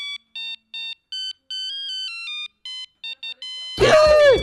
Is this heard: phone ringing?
yes